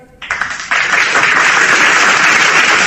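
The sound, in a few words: audience applause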